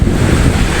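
Strong typhoon wind roars and buffets the microphone in a brief, loud, steady rush of low rumbling noise, with no voices.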